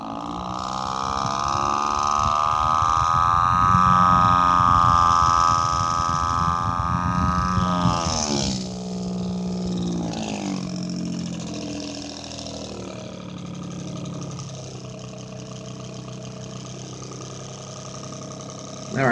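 A desk fan run at high speed gives a loud, steady mechanical drone with a pulsing, engine-like throb like a two-stroke Detroit diesel. It dips and shifts in pitch partway through, then settles into a lower hum.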